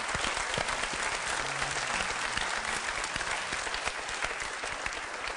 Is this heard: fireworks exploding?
no